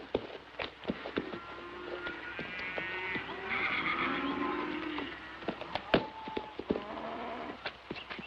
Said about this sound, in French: Tu t'es dompté un bon cheval